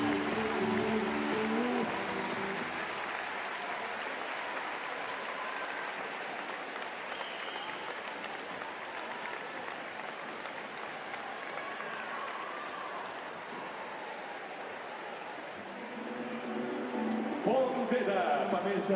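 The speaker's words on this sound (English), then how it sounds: "Crowd showing their appreciation" A basketball crowd applauds at half time of a EuroLeague Women game between Valencia Basket and Casademont Zaragoza, with steady, loud clapping and crowd noise from the arena throughout, swelling again near the end.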